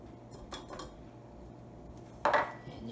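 Butter and sugar go into a mixing bowl for a pineapple bun topping, heard as a couple of faint taps followed by a single louder clink of a utensil against the bowl in a quiet kitchen.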